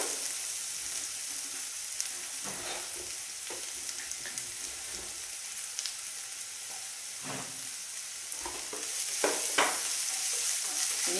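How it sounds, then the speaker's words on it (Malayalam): Onions and salt sizzle and fry in hot oil in a pan for semiya noodles, a steady close crackle broken by occasional scrapes and stirs, with no talking. "ഇത് നന്നായി വഴന്ന് വരട്ടെ"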